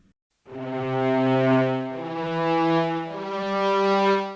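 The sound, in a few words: synthesized cello with slow attack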